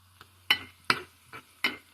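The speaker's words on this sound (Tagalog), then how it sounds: "Gisa-gisa lang yan." Sautéing aromatics for munggo, a mung bean stew: four quick, faint scraping and sizzling strokes of a spatula in a pan, spaced about a third of a second apart over a low steady hum.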